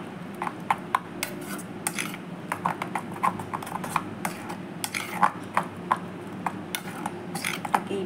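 A spoon clinks and scrapes rhythmically against a bowl while turmeric is stirred into the ingredients for Bengali ilish paturi, a steady series of light metallic taps.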